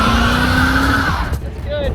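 A car bought at a dealer auction drives with a loud, close engine hum that rises steadily, then drops in pitch as it shifts gear, followed by rougher engine and road noise.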